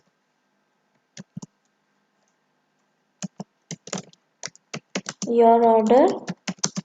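Typing on a computer keyboard while building a web app pop-up: sparse single key clicks, then a quick burst of close, crisp keystrokes, with a person speaking over part of it.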